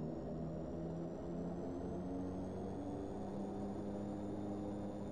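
A DHC-6 Twin Otter turboprop rolls along a short taxiway at Moorea in the Prepar3D flight simulator, with a steady, even propeller and engine drone at constant level and no talking throughout.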